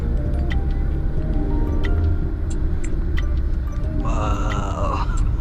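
Inside a 2023 Kia Seltos GT driven in sport mode, a steady, loud low engine and road drone runs throughout, with a faint higher whine rising near the end.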